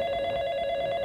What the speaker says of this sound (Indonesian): kita terima penelpon dulu, Pinkan.